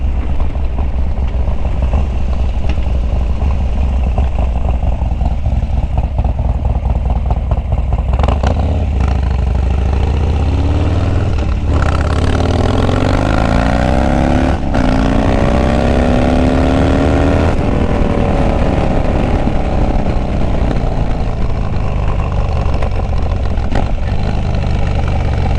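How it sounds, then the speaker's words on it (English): A dirt bike engine running, heard from a GoPro chin mount on the rider's helmet: a loud, continuous engine drone that rises and falls in pitch as the throttle changes, with wind buffeting throughout. "So this is basically what you're gonna see on the dirt bike"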